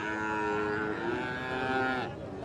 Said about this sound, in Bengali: এই যে শঙ্কর জাতের গরু পাকিস্তানি সিন্ধি